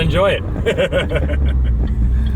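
A 2008 Saturn Sky Redline's engine drones steadily at held revs in sport mode, running continuously beneath close, ongoing conversation inside the car.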